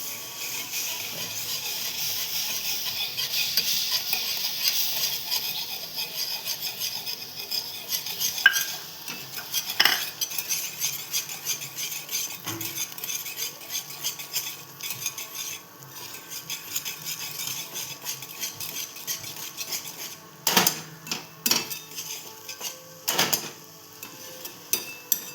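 Gram flour being stirred into pithla in a pot: a spoon scrapes and clatters against the metal, irregular and close, over a soft simmering hiss, with a cluster of louder knocks toward the end.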